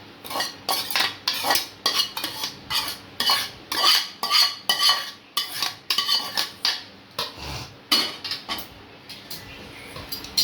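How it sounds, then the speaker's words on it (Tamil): Tempered lemon rice stirred in a pan with a metal spoon, a steady run of close scraping and clinking strokes in uneven rhythm, with no talking. "கொட்டி கிளறலாம் தாளிச்சது எடுத்து சாப்பாடு போட்டுக்கலாம்"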